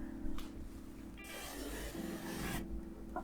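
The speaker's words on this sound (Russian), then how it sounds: "Пока штукатурка до конца не высохла и еще остается податливой, я при помощи жесткой щетки сглажу рельеф." A stiff brush rubs over wet gypsum decorative plaster on a wall, giving a soft close rasping scrape that swells into a louder brushing stroke in the middle before easing off.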